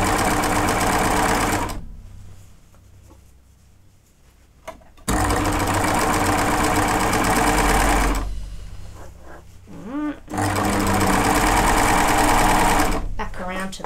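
A sewing machine top stitches a tee hem, whirring loud and steady in long runs separated by pauses, with a brief quieter stretch in between.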